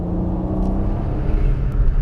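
A 2016 Porsche Macan with a turbocharged 3.6-liter V6 drives along, its engine giving a steady, close, low rumble and whir throughout.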